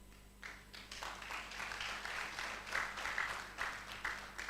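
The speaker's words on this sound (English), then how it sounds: "That alone deserves applause." Applause from the audience at a nursing induction ceremony for a graduating B.N.Sc class, a steady wash of clapping filling the hall for several seconds with some voices mixed in.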